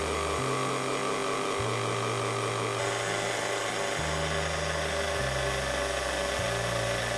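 An electric mixer creams butter and sugars for chocolate chip cookies, a steady loud motor hum that shifts pitch in stepped changes as the speed is adjusted, running continuously with no talk.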